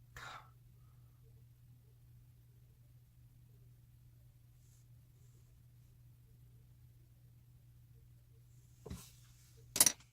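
A man clears his throat in short rough bursts, once at the start and twice near the end, over a low steady hum.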